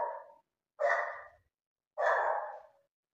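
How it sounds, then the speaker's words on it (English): A dog barks three times at moderate distance, each bark a short, breathy burst separated by brief silences, with no voices around it. "There's a dog there making noise."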